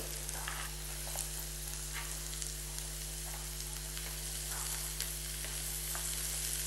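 Zucchini frying in a pan over softened salsa base, a steady close sizzle and crackle with occasional light stirring pops, under a constant low hum, no talking.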